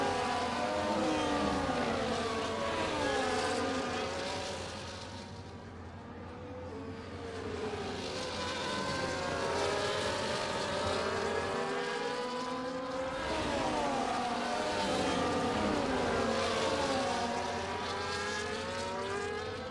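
Racing cars in a sim racing video game at Spa, one overtaking around the outside, their engines whining in loud, continuous rising and falling pitch sweeps as they accelerate and shift through the corners.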